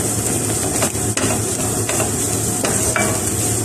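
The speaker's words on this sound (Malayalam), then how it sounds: "നമ്മുടെ സോയ ചങ്ക്സ് ഇവിടെ ചെറുതായിട്ടൊന്ന് ഫ്രൈ ആയി തുടങ്ങിയിട്ടുണ്ട്." Soya chunks fry over medium flame in a pan and are stirred, a dense continuous sizzle close up and loud, with intermittent scraping and clinks of the spoon against the metal.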